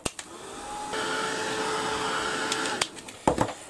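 A heat tool or dryer blows steadily for about two seconds over a handwritten journaling page in a scrapbook layout. Its loud, even whir is bracketed by handling clicks and bumps.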